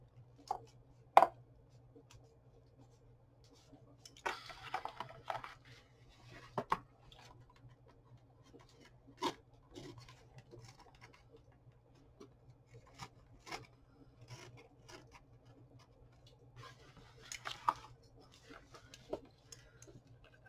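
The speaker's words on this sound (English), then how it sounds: "if my blade was sharper, that would have gone through a lot easier" A blade, not very sharp, cuts through the old binding of a little-read book being gutted for journal making, giving scattered scraping rasps and sharp ticks against a low steady hum, with moderate bursts and quiet gaps.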